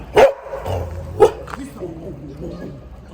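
A dog barks a few times in sharp bursts, fairly close, with a short whimpering yelp in between.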